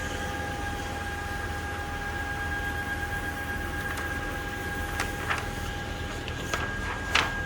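A Focus Inc Acaleph 891S UV single-pass printer prints with a steady, loud machine hum and whir, with faint tonal whines and a few brief clicks near the end.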